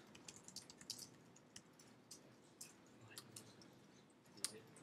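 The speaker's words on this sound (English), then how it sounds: "now we can just type our text" Soft, quiet computer keyboard typing on a Mac, with irregular light key clicks and taps spread over a few seconds in a hushed room.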